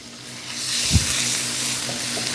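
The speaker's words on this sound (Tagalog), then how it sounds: "isasangag-sangag lang natin para lumabas yung katas niya" Ingredients for a pancit Malabon sauce stir-fry in a pan with a steady, close sizzle and one soft knock of the spoon as they are stirred.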